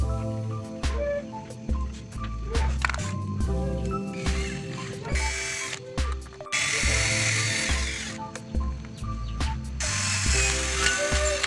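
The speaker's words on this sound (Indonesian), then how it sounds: "Selanjutnya kita bor di sini guys" A power drill bores into parts while a 1:16 scale RC truck driveshaft is being fitted, with loud close bursts of whirring broken by brief pauses and clicks as the drill stops and restarts.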